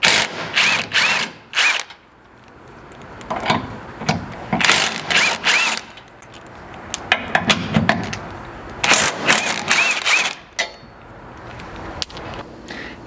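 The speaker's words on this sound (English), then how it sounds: "so now we'll just take our 17mm socket, remove these 3" Bursts of rapid ratchet clicking from a ratchet with a 17mm socket loosening Nissan Frontier hitch bolts, loud and close, with several separate runs broken by short pauses and faint metallic handling.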